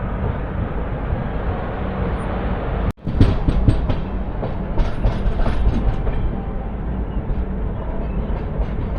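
The Janmabhoomi Superfast Express 12806, running from Lingampalli toward Visakhapatnam, rumbles along with a loud, steady roar and clickety-clack of wheels, broken by one sharp bang early on.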